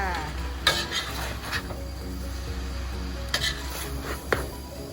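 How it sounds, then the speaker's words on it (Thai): Shredded cabbage filling for fried spring rolls being stir-fried in a pan: a spatula scrapes and clinks against the metal in repeated strokes over a soft, steady sizzle, close and fairly loud with no talking. "พัดให้เขากันเลยจ้า พัดจนมันอ่อนขึ้นมาจ้า"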